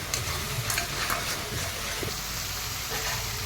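Ground spice paste of cumin, pepper, ginger, dried red chilli and green chilli frying in a pan for a bhetki fish curry, giving a continuous close sizzle with light scraping from stirring.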